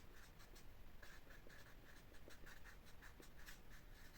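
A pen writes by hand on paper in a series of close, faint scratchy strokes, short bursts repeating at an uneven rhythm, heard alone without talk.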